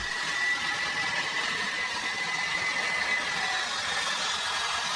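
Huge Antonov plane stuck in mud applying full engine thrust, a steady, dense roar with a high whine running unbroken throughout, loud and with no voices.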